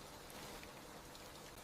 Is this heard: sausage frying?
no